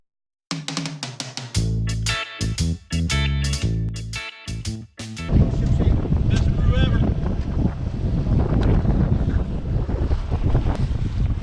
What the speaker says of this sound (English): Got a nice breeze blowing.